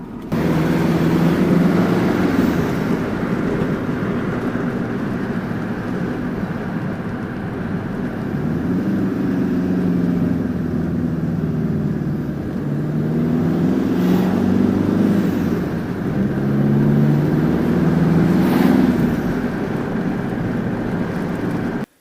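A Vauxhall Combo van with a newly fitted universal exhaust back box idles and revs gently, giving a steady, deep engine drone with smooth rises and falls in pitch, close and continuous throughout.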